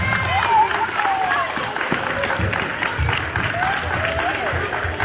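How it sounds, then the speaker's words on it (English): A crowd breaks into sustained applause, dense clapping that carries on through the clip with some cheering and voices mixed in. "y'all give a round of applause"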